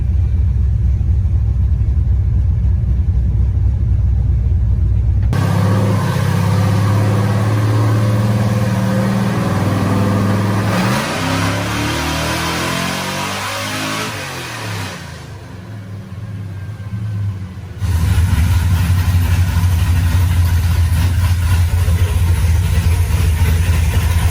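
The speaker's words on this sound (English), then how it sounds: "Power steering pump's a little whiny." A 6.0-litre LS-swapped S10 SS engine idles loud and close with a steady low rumble, a slightly whiny power steering pump adding a faint higher tone, the engine note shifting through the middle of the run.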